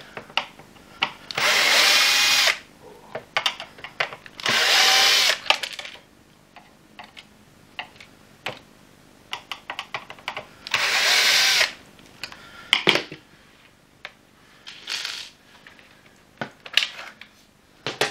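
A cordless power driver undoes screws on a Vax ONEPWR Edge vacuum floor head, whirring in several short bursts separated by clicks and rattles of small parts, close up.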